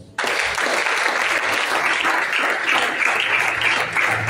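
A church congregation bursts into sudden, loud applause that holds steady and dense, many hands clapping at once with no voices standing out.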